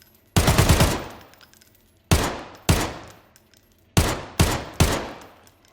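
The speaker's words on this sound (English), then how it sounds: "However, Tarkov's guns by no means sound bad." Gunfire from weapons in the video game Escape from Tarkov: a loud rapid burst of automatic fire, then several shorter bursts and single sharp shots with echoing tails, close and alone without speech.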